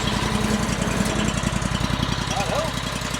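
A small Honda engine on a Mechmaxx 36 sawmill runs steadily nearby with a loud, even putter and rhythmic chugging, while a voice speaks briefly over it.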